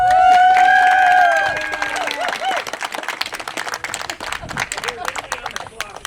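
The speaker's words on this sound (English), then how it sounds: "We need to give them a round of applause." Crowd applause and cheering at an outdoor groundbreaking ceremony for a water system rebuild in Rio Dell, California, honoring city employees; clapping swells loudly at first with shouts, then continues steadily with crowd chatter mixed in.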